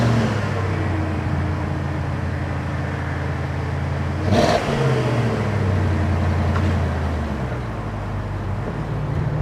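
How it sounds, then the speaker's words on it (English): Range Rover L322 on a drive, heard from inside as a steady engine and road drone that swells briefly as it accelerates, then settles back to a continuous hum. "I thought the most helpful thing to do would be to jump in the car and go for a drive."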